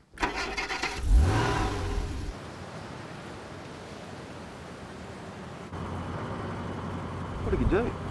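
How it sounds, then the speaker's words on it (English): A car engine cranks and catches, then settles into a steady idle, with a brief rev near the end. "Started your car. Actually, it sounds pretty good, given the state of it."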